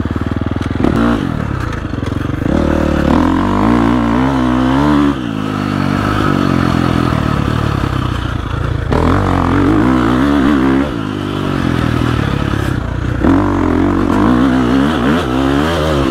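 A dirt bike works through a deep rut corner, its engine loud and close throughout, revving and falling off and then pulling hard again, with clattering and scraping from the ground under the wheels.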